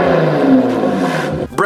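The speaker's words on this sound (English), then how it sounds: "The 370Z is a powerful rear-wheel drive sports car famous for its VQ roar." A Nissan 370Z sports car's VQ engine gives a loud, close roar that holds for over a second before cutting off abruptly.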